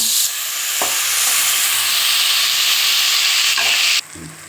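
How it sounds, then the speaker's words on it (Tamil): Onions and tomatoes sizzle steadily as they sauté in a pan. The frying hiss runs loud and continuous, with a couple of stirring scrapes, and cuts off abruptly near the end. No one speaks. "வெங்காயம் தக்காளி நல்லா வதங்கிடுச்சுங்க"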